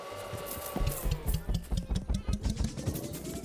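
A vacuum running in the first-person incremental game Berry Bury Berry, a steady mechanical drone with a fast, rattling pulse that grows louder partway through, sounding close and continuous.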